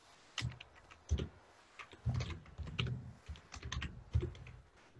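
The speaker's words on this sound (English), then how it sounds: "So maybe we can type it here, or if Anna can type it." Typing on a computer keyboard, with close, steady clusters of key clicks and heavier thumps in an irregular rhythm at moderate level and no voices.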